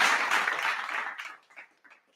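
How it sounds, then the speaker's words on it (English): A faint, brief round of applause. Hand clapping is fairly dense at first, then thins to scattered claps and fades out within about two seconds. "Let me give Marshawn Lattimore a round of applause"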